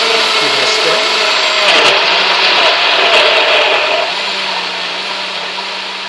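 Nutribullet blender whirring loudly as it blends a smoothie, a continuous high motor roar with slight rattling that eases a little toward the end.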